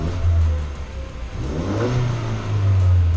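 A 2019-2022 Ford Ranger pickup engine revs up and settles in waves, a steady mid-pitched drone swelling louder toward the end, close by with no talking.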